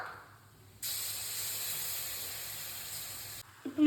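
Spice masala for chicken curry sizzles in a hot pan, a steady bright hiss that starts abruptly, holds for nearly three seconds, then cuts off, followed by a brief clatter.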